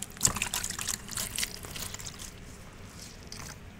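Water splashing and trickling while pets are bathed, a brief splashy burst at first that settles into a gentle, steady dribble, close by with no voices.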